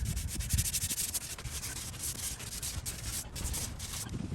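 A car bumper on a smashed Chevy Volt is sanded by hand with 180 grit sandpaper in a driveway, giving continuous rhythmic rubbing strokes, close and fairly quiet, with no talking.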